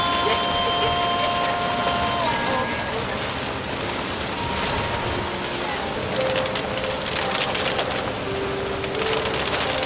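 Heavy rain hisses steadily on a mountain road toward Sapa, a constant, fairly loud wash of noise with faint tonal hums from a vehicle or wind mixed in and brief crackly spatters near the end.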